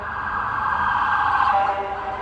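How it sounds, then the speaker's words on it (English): A police car siren wails steadily at moderate distance, one continuous rising-and-falling tone over a low rumble, with no talk. "Police car"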